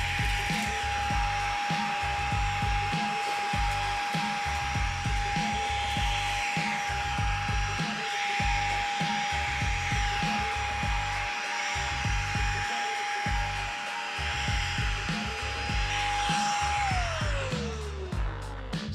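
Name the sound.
DSPIAE handheld vacuum running in high power mode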